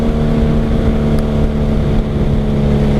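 A motorcycle engine drones steadily while riding at night, a loud, constant hum with wind noise and no breaks.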